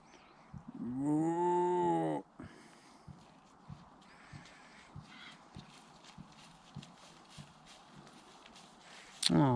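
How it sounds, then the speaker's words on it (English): A cow moos once, long and loud, close to the listener, then hooves clip-clop in an irregular walking rhythm on a hard surface with some faint background talk, and a brief sharp noise at the end. "they are technically cows because they do moo"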